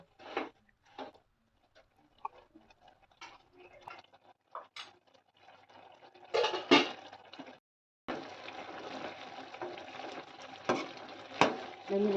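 A spoon stirs soya chunks through masala with added water in a pan for Mangalore soya sukka. Intermittent scraping clatters are followed by a steady simmering sizzle, with no talking.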